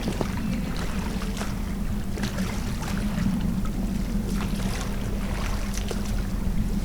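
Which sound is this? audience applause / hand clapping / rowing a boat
rowing a boat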